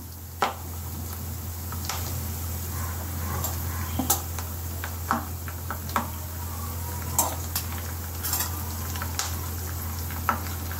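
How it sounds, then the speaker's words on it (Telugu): Curry leaves crackle in hot oil for aava pindi pulihora, a constant close sizzle broken by scattered sharp pops and light utensil clicks, with no talking. "తర్వాత కరివేపాకు వేస్తున్నాను"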